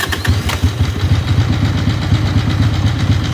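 An Ironhead Sportster motorcycle engine runs close by with a loud, lumpy idle, its uneven low thumping pulses repeating steadily with no talking.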